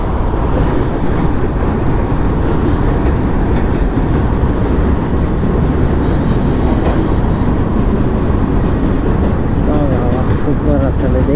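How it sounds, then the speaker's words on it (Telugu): A goods train rolls past at night, a loud continuous rumble and rattle of freight wagons that holds steady throughout, with a voice speaking faintly over it. "అది గూడ్స్ రైలు కదా"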